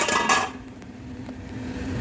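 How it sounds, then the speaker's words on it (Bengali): A metal lid comes off a cooking pot with a brief, bright clank at the start, followed by a quiet background hum. "এবার ঢাকাটা খুললাম।"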